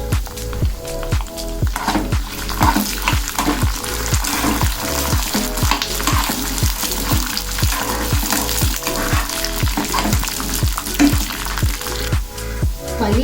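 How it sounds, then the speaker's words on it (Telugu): Peanuts and washed tamarind fry in hot oil for groundnut chutney, a steady loud sizzle broken by regular rhythmic scrapes and clacks of stirring, heard close and without talk. "ఇప్పుడు కొంచెం చింతపండు కడిగి దీంట్లో వేసుకొని ఆయిల్లో ఫ్రై చేసుకోవాలి."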